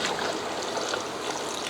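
Water pours in a continuous, close, gentle stream into a pot of curry being cooked for a home Ramadan meal, a soft trickling wash with no talk.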